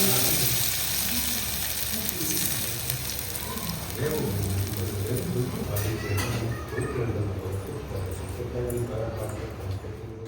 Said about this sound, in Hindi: कढ़ी में हमने तड़का लगा दिया है ऊपर से